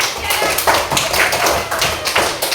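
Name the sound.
audience clapping hands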